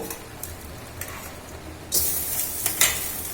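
Hot tempering (oggarane) poured into a dish at home. A quiet stretch with light clinks gives way to a sudden loud hiss and crackle that keeps sizzling to the end.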